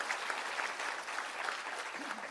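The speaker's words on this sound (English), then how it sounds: "So let's give them a round of applause." Audience applause for students at a Windhoek government launch event, a steady wash of many hands clapping at moderate distance, continuous with no speech over it.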